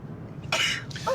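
A single sharp sneeze bursts out up close, preceded by a brief intake and followed by a second softer sneezy exhale.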